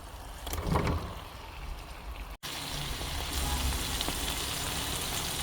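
Eggs go into ghee with well-fried spices and crackle in a steady, dense sizzle. The sound drops out for a split second, then returns as an even, close frying hiss.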